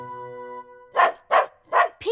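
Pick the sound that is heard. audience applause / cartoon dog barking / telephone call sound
cartoon dog barking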